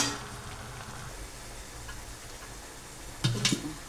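Boiled vegetables tipped into a pan of fried pav bhaji masala, a quiet low sizzle throughout, then a sudden louder burst of frying and stirring clatter near the end.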